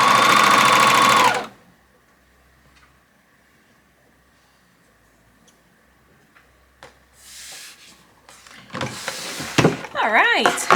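An overlocker sewing machine stitches hoodie seams in one loud, fast whirring burst of about a second and a half, then stops. A long quiet gap follows, with faint outdoor noise and a voice talking near the end.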